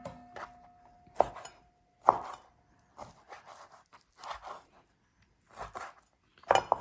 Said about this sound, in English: I try to cut them all the same size so later when you cook them, they cook all at the same time